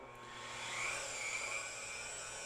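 A CNC mill spindle motor on a granite surface plate runs at its 5,000 RPM minimum, giving a steady high whine with a faint pitch sweep, quiet and continuous throughout.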